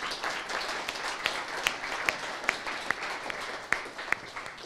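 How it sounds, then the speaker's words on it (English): Town hall audience claps in a steady, moderately distant round of applause with a few sharper individual claps standing out. "Give them another round of applause."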